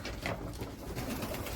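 A pigeon coos inside a pigeon loft, soft low throaty murmurs repeating close by against a busy background rustle, with no talking.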